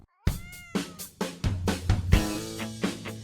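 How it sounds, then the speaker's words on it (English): A male cat meowing and yowling loudly in a rapid series of about six drawn-out calls, close and alone, rising into a longer strained cry near the end. "They're like the opera singers of the feline world, with their loud meows, yowls, and chirps."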